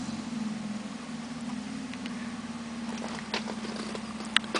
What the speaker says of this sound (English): I mounted an air compressor right here in the front of the chassis, and it is hooked to a PTO shaft that spins it.